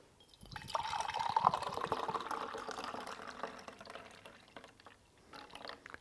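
Starbucks nitro cold brew pours hard into a glass with a soft, fizzy rush that swells and then fades as the stream tapers off.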